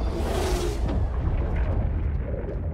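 Big explosions in the Star Wars Battlefront 2 video game make a continuous loud, deep rumbling roar with crackling debris, a dense and steady blast of sound with no talk over it.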